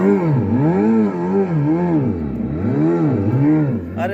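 Simulated engine sound from a Revolt RV400 electric bike's sound mode, a loud continuous tone that swoops up and down in repeated wavy sweeps, like a revving motor, steady throughout.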